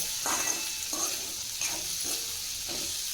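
Cluster beans (gavar) being stirred in a pan over low heat, a soft frying sizzle beneath four or five regular scraping strokes of a spoon, with no talking.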